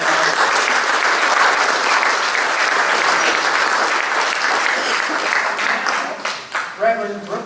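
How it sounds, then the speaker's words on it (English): Sustained applause from a large crowd at a Pride event, loud and steady for several seconds before tapering off at the end. "A round of applause for Woodwalker"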